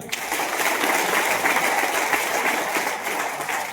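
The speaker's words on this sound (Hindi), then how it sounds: "आप ऐसे बताते हो तो अपने भाई के लिए ताली बजा दो।" A seated crowd gives a round of steady applause for a speaker at a business gathering, thick, even clapping that holds for several seconds without talk.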